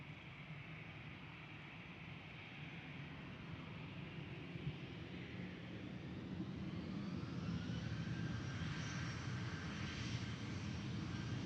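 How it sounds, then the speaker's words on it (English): Boeing 787 Dreamliner jet departing Amsterdam Schiphol Airport for LAX, close by: a steady broadband engine roar that grows slightly louder and fuller over the clip, with no talking. "And the Dreamliner to LAX is also getting closer by."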